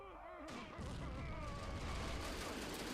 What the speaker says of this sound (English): And we've got the German mortars firing as well.